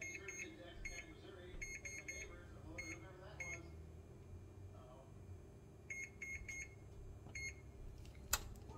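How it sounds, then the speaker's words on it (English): A kitchen oven timer beeps in short clustered bursts, a few repeated electronic tones early on and again later, faint over background room noise. "Now I'm going to set the timer for 20 minutes."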